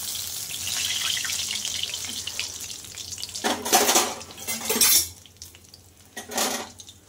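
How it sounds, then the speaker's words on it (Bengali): Fried fish being lifted from a pan of hot oil: a steady frying sizzle gives way to a few sharp metallic scrapes and clinks of a utensil against the pan, close and fairly loud, with no voices. "মাছগুলো সব ভাজা হয়ে গেছে, আমি তুলে নিচ্ছি"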